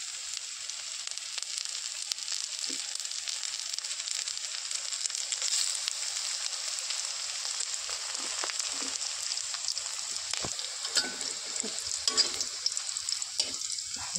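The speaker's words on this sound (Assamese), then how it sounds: "ভাজি আছোঁ" Dhekia bora, fern fritters, sputter in hot oil over a gas flame: an even, close sizzle runs the whole time, broken by occasional pops and the light clink of a utensil toward the end.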